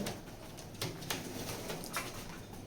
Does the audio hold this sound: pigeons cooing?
yes